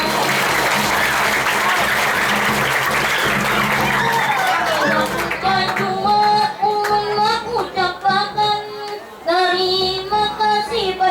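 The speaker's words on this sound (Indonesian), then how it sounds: "mari kita bersama tepuk tangan semua" Audience applause at a farewell event during a Banjarese madihin performance, loud dense clapping for about five seconds that gives way to a voice speaking and singing over instrumental accompaniment.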